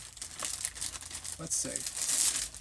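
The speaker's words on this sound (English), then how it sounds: "I might be able to put these in a cellophane bag" Cellophane bag crinkles and rustles in bursts while yarn is packed into it, close and fairly loud, with a brief spoken remark partway through.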